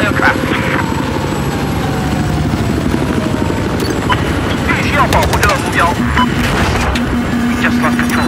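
Hostile aircraft in the Battlefield 4 video game, a continuous loud rotor-and-engine roar like a helicopter sweeping overhead amid gunfire and battle noise, with radio voices talking over it.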